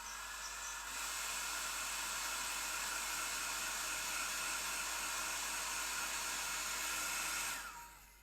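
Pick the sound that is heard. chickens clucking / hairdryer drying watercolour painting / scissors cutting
hairdryer drying watercolour painting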